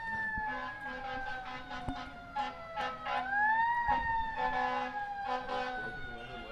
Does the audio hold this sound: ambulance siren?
yes